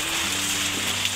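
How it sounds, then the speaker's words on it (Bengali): Rain patters into a duck pond fountain while a pump motor fills it, making a steady close hiss over a low, constant hum for about a second. "দেখো আমাদের এই ফাউন্টেনের মধ্যে বৃষ্টি পড়তেছে"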